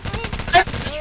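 Automatic weapon fire rattles in the military shooter Operation Flashpoint: Dragon Rising as a continuous, fairly loud burst of rapid shots lasting about a second.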